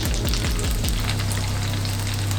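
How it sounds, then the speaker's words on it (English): Boiled dumplings fry in a pan with a loud, steady, close sizzle that continues throughout, with a low rumble underneath and no voices. "So now go and fry this up."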